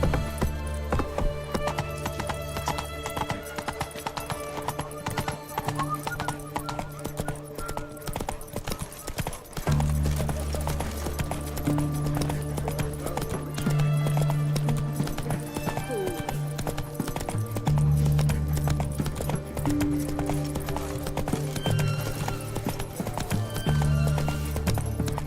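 Roach the horse galloping in the video game Witcher 3 Wild Hunt, a steady drumming of hoofbeats under a constant bed of game music and ambience, with a neigh breaking through.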